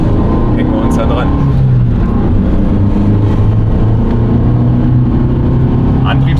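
An Abarth car at speed on the Bilster Berg race track during a trackday, with a loud, steady engine drone and a sustained exhaust note that fills the whole clip without pause.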